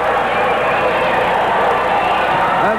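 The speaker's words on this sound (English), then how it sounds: "And the crowd on their feet cheering Strongbow." A wrestling arena crowd on its feet cheering for Strongbow, a loud, steady roar of massed voices with a faint engine-like hum beneath and a rising whistle near the end.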